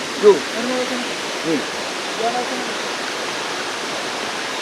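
A waterfall in an Indonesian forest roars as a constant, broad wash of rushing water, loud and near, with a few faint voices briefly rising beneath it.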